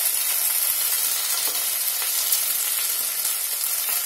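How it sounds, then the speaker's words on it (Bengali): Garlic paste frying in hot oil gives a steady, loud, even sizzle throughout with no talking. "আমি এবার এতে রসুন বাটা দিয়ে দিলাম এক চামচ,"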